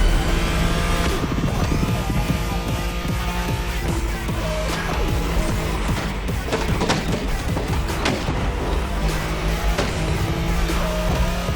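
Nissan Skyline engine howling during a high-speed Wangan race in The Crew Motorfest, a loud continuous drone with shifting revs and brief tire noise throughout.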